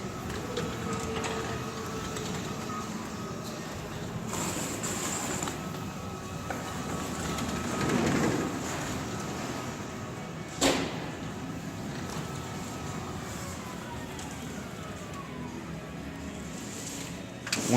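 An Eagle R2B2 stretch wrapping machine runs at about 85% speed, giving a steady mechanical hum and rattle throughout, with a brief clack near the middle and a sharp knock at the end.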